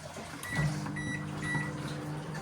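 A microwave oven running while defrosting frozen peas in a home kitchen, a steady close hum with a faint electrical whine throughout, no talking.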